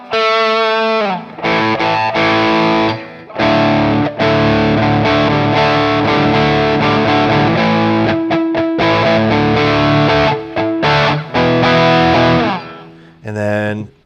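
Electric guitar on a budget smart amp's third channel, a distortion setting: loud crunchy chords and riffs with thick sustained gain, close and continuous with brief gaps, no talking.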